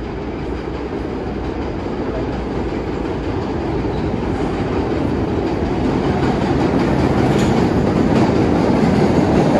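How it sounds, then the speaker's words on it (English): A rumbling, roaring MBTA Red Line subway train fills the clip, steady and loud, with rhythmic clatter of wheels on rails as it arrives close by at a station. "the next red line train to Ashland is now arriving."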